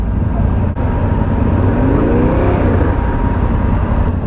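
Cars idling and creeping through a busy lookout car park in Norway, a loud continuous engine rumble close by, with one vehicle revving briefly in the middle.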